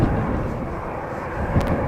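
Saudi Boeing 787 Dreamliner departing Amsterdam Schiphol, a steady low jet engine rumble, moderately loud and somewhat distant, with no talk.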